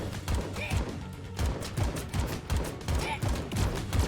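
Rifle fire from an AK in the cartoon shooter AK-xolotl comes as rapid, evenly spaced bursts of punchy shots in a rhythmic fusillade, loud and up front, with game effects mixed underneath.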